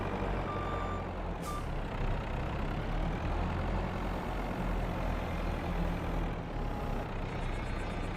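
A Kenworth truck in Farming Simulator 22, a steady low engine rumble with a faint high beep early on and a short hiss of air near the start, constant and moderately distant.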